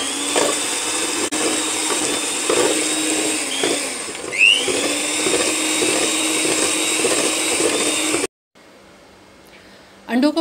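An electric mixer beats eggs in a big bowl until fluffy, a steady whirring motor hum with slight pitch wobbles as the beaters move, close and constant, then it cuts off into near silence before a brief final noise.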